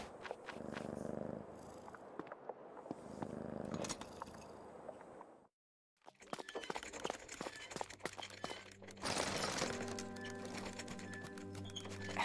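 A cat purring in the video game Creepy Tale 2, a soft rumbling purr mixed with footsteps and game sounds, broken by a brief silence midway before the scene's sounds resume with musical tones.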